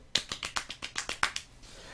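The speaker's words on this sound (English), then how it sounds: "You get golf clap of the day" A quiet golf clap: around nine light, rapid, close-up claps in a quick steady rhythm, then silence.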